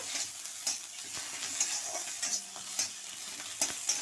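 Poppy seeds and grated coconut dry-frying in a pan while being stirred, a faint sizzle with repeated light scraping strokes of a spatula at an uneven rhythm.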